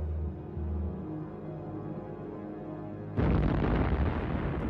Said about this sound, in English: There are amazing photographs of the flash and the huge explosion that followed.